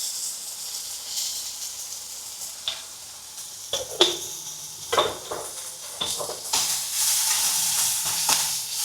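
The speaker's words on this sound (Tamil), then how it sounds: "ஸோ இது ரெண்டும் வதங்கட்டும்." Vegetables salted and sautéing in a pan for a home pasta dish give a steady close hiss and sizzle, broken by sharp clicks and scrapes of stirring, growing louder and denser toward the end.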